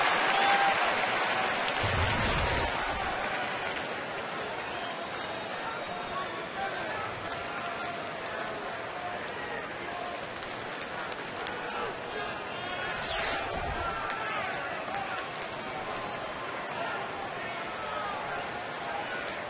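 A large baseball stadium crowd of over 33,000 at a Thursday night Angels versus Rangers game applauds and cheers in a steady roar, while a commentator talks over it.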